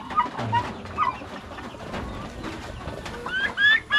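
Several turkeys cluck and chatter close by while eating in a busy farmyard, with scattered calls and a few higher chirps over low rustling.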